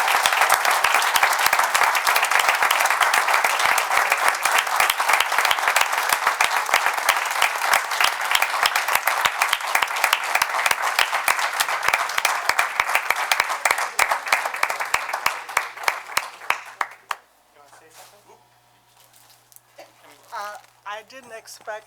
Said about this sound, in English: So please join me in giving a round of applause for Annie Seeley.